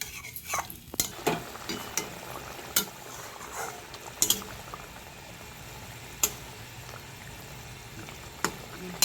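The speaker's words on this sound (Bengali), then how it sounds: "পরিমাণ মতো জল দিয়ে এটাকে একটু ফুটতে দিতে হবে যাতে আলুগুলো ভালোভাবে সেদ্ধ হয়ে যায়" A potato and fish curry (Japani puti jhal) simmers in water in a pan, giving a steady low bubbling hiss broken by a few sharp utensil clinks, with no voices.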